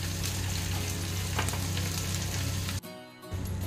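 A bun dosa fries in a pan over a slow flame with a close, steady sizzle that cuts off sharply for a moment before returning.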